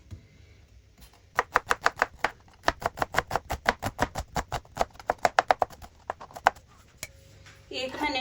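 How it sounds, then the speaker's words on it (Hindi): An onion being chopped on a board with a knife, a rapid run of crisp, evenly spaced close knocks that starts after a quiet second and stops shortly before the end. "एक प्याज लिया, इसकी कटिंग आप देखें।"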